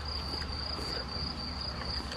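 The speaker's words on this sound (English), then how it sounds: "crickets and the birds." Crickets chirp in a steady, continuous high trill on a farm near Barajevo, Belgrade, a faint outdoor bed with no distinct birdsong standing out.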